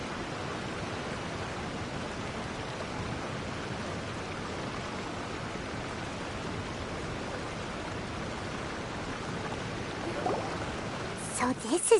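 Steady broadband rush of a waterfall in a video game, continuous and even across the whole stretch, with a brief louder burst of other game sounds near the end.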